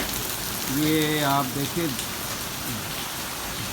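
Heavy monsoon rain pours steadily in Malir Cantt, Karachi, as a broadband hiss throughout, while someone speaks briefly over it near the start.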